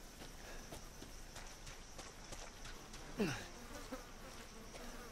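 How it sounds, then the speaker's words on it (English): Mosquitoes buzz around the player in Resident Evil 7, a faint insect drone set against a quiet ambient background, with a brief louder whine sweeping close past about three seconds in. "Get out of here, stupid mosquitoes."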